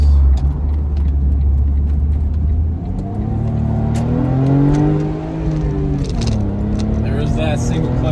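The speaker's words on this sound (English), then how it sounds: "Need some downshifts." A Brabus Smart car with a single-clutch transmission accelerates, its engine climbing in pitch, then dropping briefly with a downshift before rising again. The engine is close and loud, with a deep rumble at the start.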